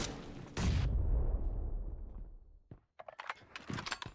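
In an apartment firefight in a video game, a single heavy boom cuts off abruptly and its echo slowly decays, followed by a quick run of sharp, closer shots near the end.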